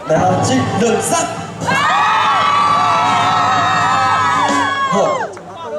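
Crowd at a nighttime temple-square concert in Tainan screaming and cheering, a sustained loud wave of high shrieks and whoops from many voices after a brief shout.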